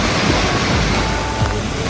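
Sea waves wash onto the shore at Boracay under a dark, overcast sky, a steady, loud roar of surf with wind over the microphone and no voices.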